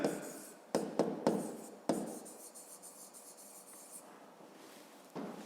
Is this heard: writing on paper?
yes